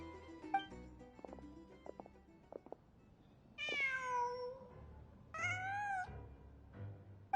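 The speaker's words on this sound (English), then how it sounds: "Just a cat." Two drawn-out cat meows ring out clearly in a video game, set over a quiet patch of soft clicks and low background hum.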